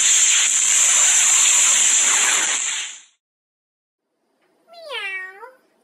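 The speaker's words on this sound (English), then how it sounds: "Meow. I am the Farkas family cat" A cat lets out one short, clear meow after a few seconds of loud, hissy noise and a moment of silence.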